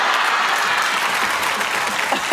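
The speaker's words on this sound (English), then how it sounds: "they're only clapping because they want to be seen on the TV" A television talk-show studio audience claps in a dense, steady round that lasts about two seconds, fairly loud and close, with a little speech mixed in.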